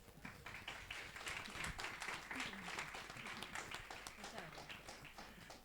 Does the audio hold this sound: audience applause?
yes